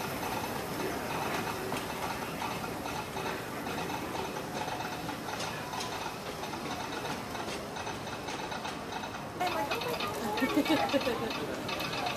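The Disneyland Railroad train rumbles and rattles along the rails with a constant broadband clatter, and people talk faintly over the ride.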